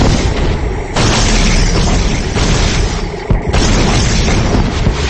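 Rocket superweapon strikes in Red Alert 2: Yuri's Revenge, loud booming explosions rolling almost continuously with a few sharp breaks and fresh blasts, dense and close-sounding, with no voices over them.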